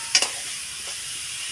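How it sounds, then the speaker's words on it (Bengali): Chicken curry spice paste stir-fried in a pan, a steady sizzling hiss throughout with a couple of brief louder scrapes of stirring near the start. "এই মশলাটা এখন কষিয়ে নিই"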